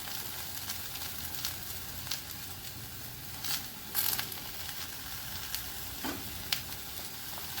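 Okra sizzling in a pan right after red chili powder goes in, a steady soft frying hiss with occasional crackles and the scrape of stirring, fairly quiet and close with no voices.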